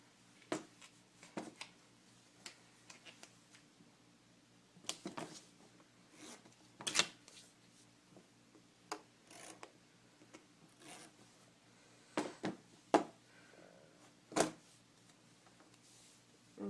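Red duct tape is pulled off the roll and cut into strips for a bracelet, with quiet sharp rips and tearing bursts scattered irregularly over a hushed room background.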